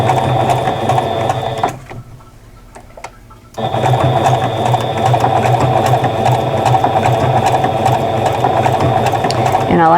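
A sewing machine stitches an applique onto a fabric quilt block through a clear presser foot, a loud rapid mechanical whir that stops for about two seconds while the fabric is turned, then resumes steadily.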